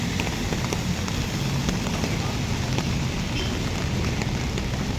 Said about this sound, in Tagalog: Pagka ganito nag-umpisa na rito yung ulan.